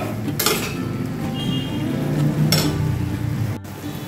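Dal and vegetables being stirred in a metal pot after sugar goes in, with scraping, clinking utensil sounds and a steady cooking hiss. Two sharper bursts of scraping stand out at close range, and no one speaks.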